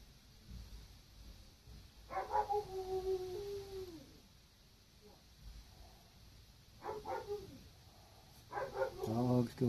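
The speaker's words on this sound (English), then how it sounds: "Dog's going crazy." A dog barks in agitated, spaced bursts during a Thanksgiving Eve feeding with a cricket nearby, the harmonic yelps coming in three clusters at moderate distance over low background noise.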